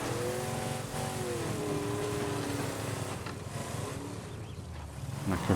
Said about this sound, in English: Oh, the engine. You can hear it.